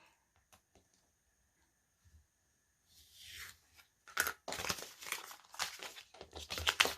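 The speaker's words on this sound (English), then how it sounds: "So I'm going to go ahead and cut right here, right along." Paper cut with scissors along a straight edge while making snowflake ornaments, first a few faint snips, then a run of close, crisp crinkling and tearing-like cuts.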